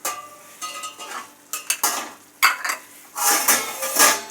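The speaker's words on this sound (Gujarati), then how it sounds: "આપણે બરાબર હલાવી લેશું." An onion and meat mixture being stirred in a pot over a low flame, with intermittent scraping and clinking of a utensil against metal over a faint sizzle.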